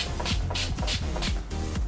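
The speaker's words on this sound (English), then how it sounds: "I'm just gonna spray this all over my face" A makeup finishing spray, a bridal version, is misted repeatedly onto a face, several close, short hissing bursts in quick succession.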